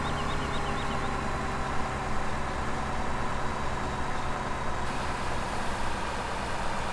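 A truck engine in the Giants Island farming game drones steadily, a constant low idling rumble with a faint whine, loud and unbroken throughout.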